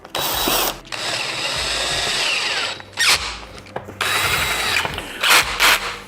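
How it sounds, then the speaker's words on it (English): A power tool drives bolts in loud whirring bursts with ratcheting clicks and brief pauses between tightenings, close up and with no one talking. "if you're using a power tool, make sure that you adjust the torque so you don't over tighten these, break a bolt"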